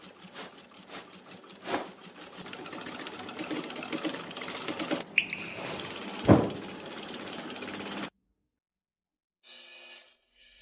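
Sewing machine stitching a padded jacket lining, a fast, steady mechanical whirring patter running for several seconds with brief pauses, then stopping into silence.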